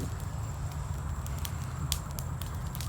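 An outdoor campfire crackles with scattered sharp pops and snaps, some clustered, over a continuous low rumbling background.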